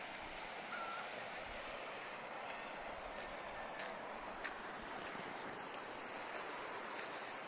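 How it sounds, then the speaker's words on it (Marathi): A small stream near Mandoshi, on the way to Bhimashankar, flows with a continuous soft hiss and gurgle. The sound is faint and even throughout, with no talk. "वाहतं पाणी आहे."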